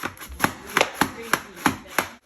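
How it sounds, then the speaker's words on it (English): Fresh cilantro being chopped by hand with a knife on a cutting board for carrot pickle, six crisp, evenly spaced knife strikes in a steady rhythm, close and clear with no talking. "So that's our cilantro, the chopping up."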